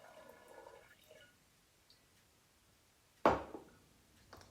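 Rhubarb juice poured into a bottle of water kefir, a short gurgling splash that fades quickly, close and otherwise quiet.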